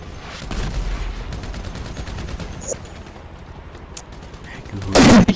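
Sniper fire in GTA V Online, scattered sharp cracks and rapid bursts of shots through the clip, ending in a loud, close blast, amid game noise with no clear talking.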